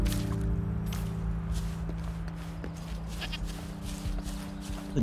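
A goat in the video game Wuthering Waves gives several short, wavering bleats over a steady hum of game music and effects, at moderate volume with no talking.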